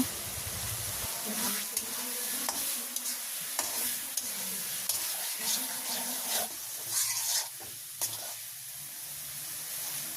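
Green chilies and spice paste frying in a pan at a village kitchen, a continuous sizzle with light stirring scrapes and occasional clicks, fairly close and moderate in level.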